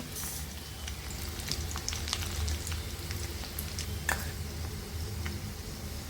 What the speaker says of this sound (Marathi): राई चांगली तडतडली आहे।